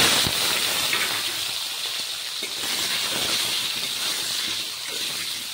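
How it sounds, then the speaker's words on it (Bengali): Sliced pointed gourd frying in hot oil, salted, in a pan after potatoes: a continuous hissing sizzle, loudest at the start and then settling to a steady bubbling spit. "তারপর এখন কেটে রাখা পটলগুলো আমি ভেজে নেব"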